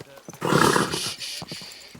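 A horse snorts loudly up close, followed by scattered hoof clops on hard ground.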